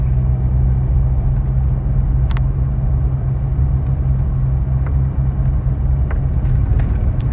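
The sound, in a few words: Chevrolet Silverado transmission downshifting with grade braking on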